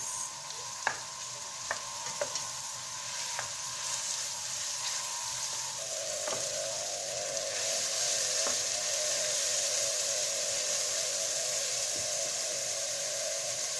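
Mushrooms are stirred in a sizzling pan, a steady hiss of frying broken by light scraping and clicking strokes that recur at uneven intervals, close and clear with no talking.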